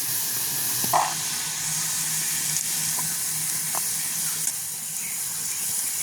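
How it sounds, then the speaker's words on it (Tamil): Vegetables deep-frying in hot oil on a village stove, giving a steady loud sizzle and hiss throughout with a few brief stirring clinks. "இப்போ நாங்கள் மரக்கறியெல்லாம் பொரிச்சு எடுத்துட்டோம்"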